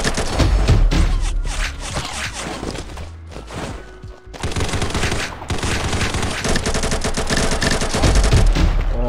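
Sustained bursts of AK rifle fire in the Combat Master battle royale mobile game, loud and dense, with rapid overlapping shots and a brief lull near the middle before firing resumes.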